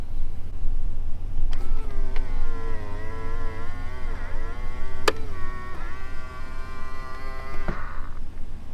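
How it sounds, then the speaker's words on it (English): Power folding tow mirrors on a Ram truck whine as their electric motors run, a strained, wavering buzz lasting several seconds over a low idling hum, sounding worn and unhealthy. "So yes, they do still work, but they definitely don't sound very healthy."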